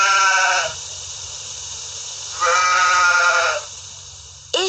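Goat bleating, two long wavering cries close and loud with a quieter pause between them, then the start of a third call at the end.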